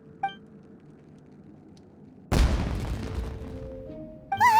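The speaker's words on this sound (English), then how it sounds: "Was that an explosion? It sounded like fireworks." A booming firework burst in Genshin Impact erupts suddenly after a quiet stretch, followed by a crackling, rumbling tail and a short chiming cue at the end.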